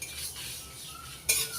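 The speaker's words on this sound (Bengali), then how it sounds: "মশলাটা নাড়াচাড়া করে ভেজে নিতে হবে" Spices for a mango-peel chutney frying on low flame while being stirred in a pan, with soft continuous scraping and a sharper clink of utensil on metal near the end, no voices.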